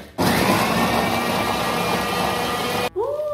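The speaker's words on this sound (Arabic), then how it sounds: "ودلوقتي هحط البسكوت ده في الخلاط وهنخلطه علشان يتكسر" A blender crushing biscuits roars steadily for nearly three seconds, loud and close, then cuts off abruptly.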